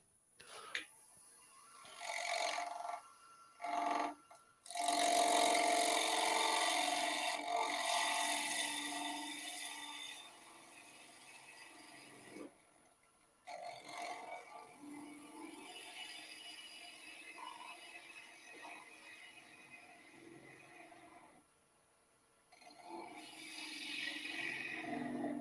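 A woodturning lathe takes a cleanup pass in a bowl bottom with a Little Wonder cup tool. Short scraping bursts alternate with quiet gaps, and one long, loud rasping cut stands out near the start.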